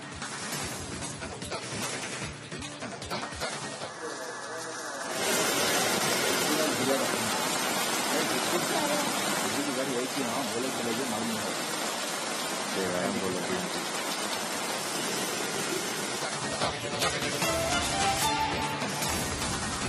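Heavy rain falls in Bengaluru during flooding, a dense broadband hiss that swells loudly after a few seconds and pours on steadily, with traffic-like rumble and a voice briefly audible early on.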